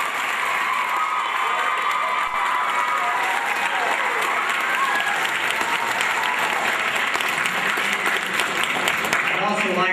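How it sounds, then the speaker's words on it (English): Audience applause at a fifth-grade school musical, honouring the music teacher: dense, loud clapping sustained for the whole stretch, with some cheering and children's shouts mixed into the crowd. "Please give her a round of applause."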